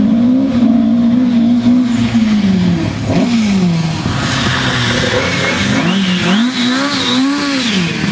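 A Ford Escort rally car in Stobart livery runs with headlights on at a classic motorsport show, its engine droning and rising and falling through revs as it passes nearby, loud and continuous.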